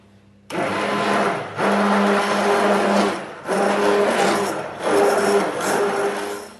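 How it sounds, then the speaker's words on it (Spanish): A blender whirs loudly up close, running in several pulsing bursts with its motor pitch rising and dipping as it beats a liquid crepe batter. "Ahora vamos a batir todos los ingredientes con la ayuda de la batidora"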